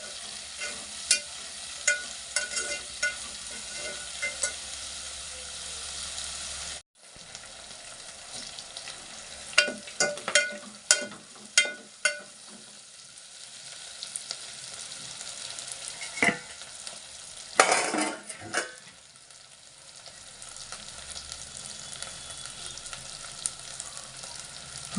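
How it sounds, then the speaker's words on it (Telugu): Dried salted fish frying with onion in a pan, a continuous close sizzle broken by repeated stirring scrapes and utensil taps, with a brief pause early on; no talking. "చేప అలా ద్వారగా వేపుకోవాలి, బ్రౌన్ కలర్లో వేపుకోవాలి."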